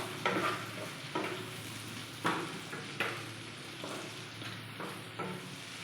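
Chopped tomatoes sizzle steadily in hot oil in a pan while a spoon stirs them in several scraping strokes, close and fairly loud, with no talking, during cooking of a steamed egg dish.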